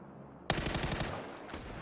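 A full-auto weapon fires in PUBG on console, a sudden loud burst of rapid, evenly spaced shots that starts abruptly after a short quiet lead-in and keeps going without a break.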